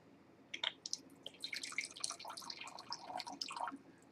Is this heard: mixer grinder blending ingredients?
no